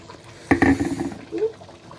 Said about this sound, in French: Ça éclabousse.